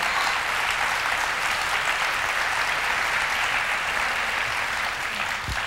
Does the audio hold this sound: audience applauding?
yes